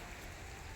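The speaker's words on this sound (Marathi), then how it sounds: "वाढला पाऊस." Steady rain falling at Narayan Talav, a dense and even hiss of drops with no voices, continuous throughout the short stretch.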